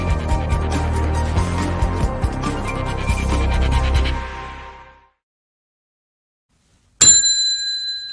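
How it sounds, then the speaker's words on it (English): A bell is rung loudly, its bright ringing tone sustaining and fading over about five seconds, then after a silent pause it is struck again with a sharp, ringing hit. "Rings the bell."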